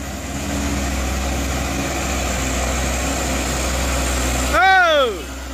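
A Fuso coal truck engine idles with a steady low rumble throughout, then a loud rising-and-falling tonal sweep cuts in near the end.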